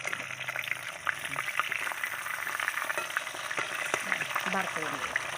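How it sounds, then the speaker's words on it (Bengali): Fish fries in hot oil with a dense, continuous sizzle and crackle, steady and moderately close, with scattered small pops throughout. "মাছটা ভাজা হয়ে গেছে।"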